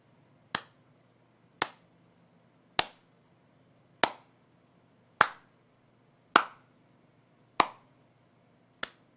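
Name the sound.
slow clap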